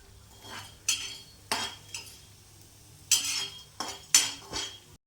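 Lentils, cinnamon, cloves and peppercorns dry-roasting in a pan, stirred with a metal spoon that scrapes and clinks in sharp, irregular strokes, close and clear with no talking.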